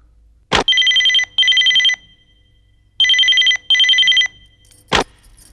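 An old-style telephone bell ringing in a Nepali film scene, two paired bursts of loud electric trilling separated by a pause, framed by sharp clicks at the start and end.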